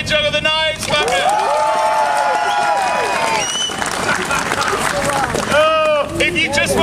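An outdoor street-show audience at a Huddersfield festival of light claps steadily, with shouting voices over the applause.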